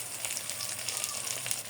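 Rui fish frying in a pan gives a dense, steady sizzle of hot oil with fine crackles and spits, close and fairly even throughout.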